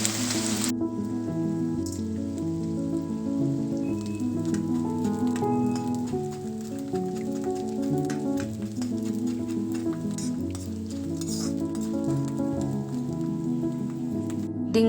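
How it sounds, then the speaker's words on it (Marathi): Edible gum fries in hot ghee in a wok with a loud, dense sizzle and popping crackle, close and continuous from start to finish. "आता कढईमध्ये तूप गरम करायचे आणि त्यामध्ये आपल्याला डिंक तळून घ्यायचं आहे"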